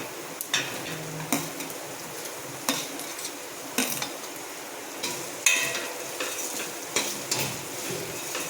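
Chopped onion and capsicum sautéing in hot oil for wheat flour noodles, a soft steady sizzle broken by regular scrapes and knocks of a spatula against the pan.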